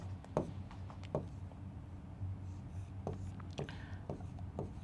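Pen strokes scratch across paper as Arabic words are written by hand, faint close taps and scrapes in an uneven rhythm over a quiet room hum.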